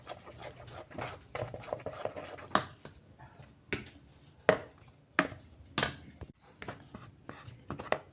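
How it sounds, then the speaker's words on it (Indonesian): A spoon works tapioca flour into a soft sagu keju cheese cookie dough, making irregular close knocks, taps and scrapes with short pauses between them, quiet and without voices. "Lalu kita masukkan sedikit demi sedikit tepung tapiokanya. Sambil kita aduk ya."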